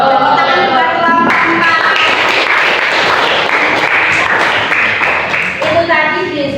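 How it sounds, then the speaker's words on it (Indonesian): A classroom applauds a student group after its discussion, a loud dense burst of clapping mixed with cheering voices, with talk before and after it. "Tepuk tangan buat kelompok"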